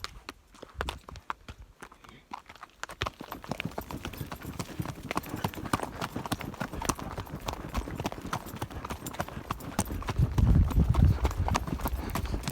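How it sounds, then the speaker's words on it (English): A trail horse trotting on an outdoor trail, with a steady rhythmic clip-clop of hooves close by that grows heavier toward the end, with faint talk in places. "Toby just took it up to the trot and really felt like he wanted to go somewhere"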